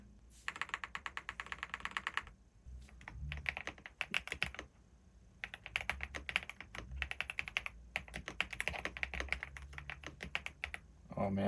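Typing on a Gravastar mechanical keyboard: bursts of rapid, crisp key clicks and clacks, close and fairly loud, broken by short pauses, with a voice briefly heard.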